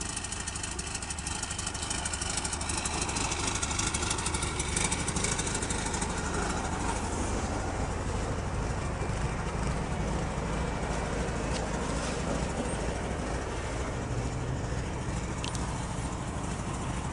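A bus engine idling as it warms up, a steady low rumble that stays constant and close throughout with no breaks.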